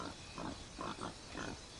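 A pig in a video game oinks and grunts in several short bursts, close and fairly clear over a constant background hiss.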